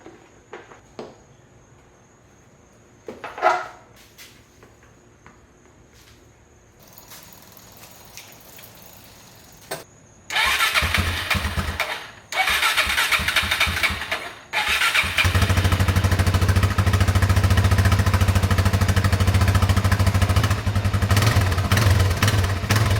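A Suzuki DRZ400 motorcycle is cranked after some quiet clicks and handling noises, catches briefly, cuts out, then fires up and keeps running at a loud, steady idle close by.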